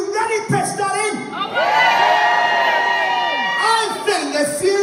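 An audience at an adult comedy weekender at Pontins Prestatyn breaks into loud cheering and whooping, a dense roar of many shouting voices that holds for a few seconds, with an announcer's voice heard at the start and end.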